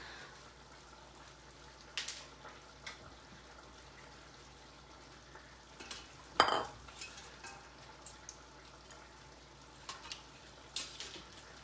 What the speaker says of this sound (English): just slowly scooping out my pasta here